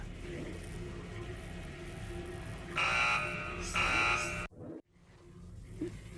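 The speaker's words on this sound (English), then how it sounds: "And I'm sure by that blaring alarm, that means I was running out of time." A blaring alarm in the video game Tesla Effect sounds in two loud sustained bursts over a steady background drone, then cuts off abruptly as the scene goes quiet.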